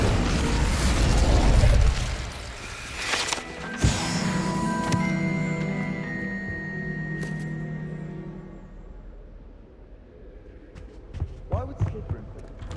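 An Incendio fire spell in Hogwarts Legacy erupts with a sharp burst and boom, followed by a roaring, ringing tail that fades over several seconds amid game sounds and a spoken voice.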